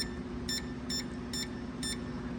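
An ultrasonic cleaner beeps four times at an even pace as cleaning of Buick Grand National fuel injectors begins, faint electronic tones over a steady low hum.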